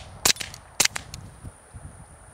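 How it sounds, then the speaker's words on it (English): Three subsonic Aguila .22 rounds fired from a Walther PPK, heard as two sharp, fairly quiet cracks close together followed by a fainter third pop, each ringing out briefly over a quiet outdoor background. "So the first three are going to be the Aguila subsonic, so you guys can hear what the subsonic should sound like."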